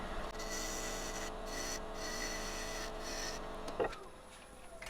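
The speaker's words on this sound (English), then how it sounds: "But I can make another tenon up here." Wood lathe cutting a tenon on a blank of wet wood: a steady, continuous broadband scraping rasp that holds evenly through the clip, with a brief louder catch near the end.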